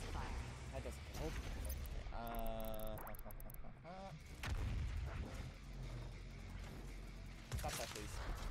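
A BFG 10,000 firing in DOOM Eternal gives a deep, heavy boom after a rising electronic warble, set among loud game sounds while a person talks.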